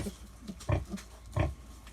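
Purebred Hungarian Mangalica piglets, a litter of eight just over a week old from a first-farrowing sow, grunt in short low snorts, two louder close grunts standing out among softer ones, with no talk.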